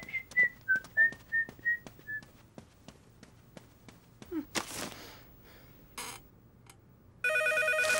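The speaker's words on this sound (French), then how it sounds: "Téléphone." Cartoon-style telephone rings out loud in a French household, a short run of ringing bursts following a string of whistled notes and sharp taps, with no talking over it.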